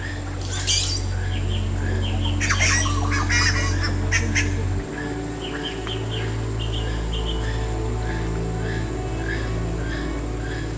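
Birds call and chirp in scattered bursts in Panama over a steady low mechanical hum, with a few squawky honking calls near the start.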